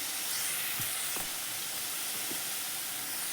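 Cauliflower with salt and sugar fries in a pan for kachori filling, giving a faint, steady hiss with a couple of soft stirring taps and no talk.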